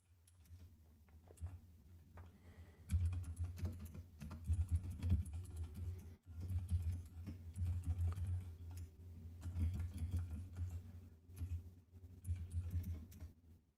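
Fast, steady typing on a computer keyboard, soft clicking keystrokes in bursts with brief pauses, close but quiet over a low electrical hum.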